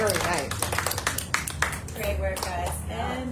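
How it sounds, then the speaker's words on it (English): An audience at a runway fashion show claps for the models, scattered applause underneath a speaker who keeps talking over it. "And a round of applause for our lovely models."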